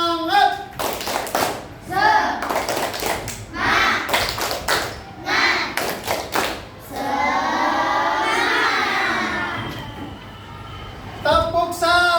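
A group of children claps a rhythmic spirit clap in short bursts of sharp hand claps, with lively voices shouting and chanting between and over the claps.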